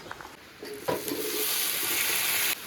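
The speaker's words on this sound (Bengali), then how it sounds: "রসুনটা ভালো করে আমি ভেজে নিয়েছি এবার পুঁই শাকগুলো দিয়ে দেবো" Malabar spinach drops into a pan of frying garlic and chili, setting off a loud, close sizzle that swells suddenly and holds steady before cutting off.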